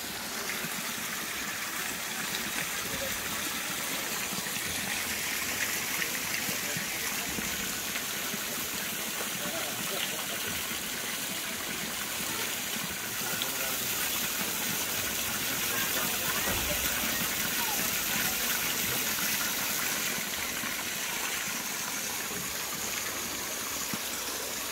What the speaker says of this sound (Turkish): Böyle bu şekilde şelale.